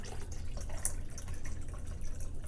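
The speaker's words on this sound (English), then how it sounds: "So I'm going to pour some orange juice, some peach snap." Peach schnapps liqueur, about 15% alcohol, poured from a bottle into a glass with drinks being mixed: a steady liquid splash and trickle with a few brighter drips, close and continuous, no talking.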